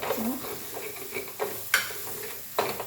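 Spices and gram flour roast in a pan over a low flame, with a soft sizzle under repeated scraping stirs of a utensil at close range.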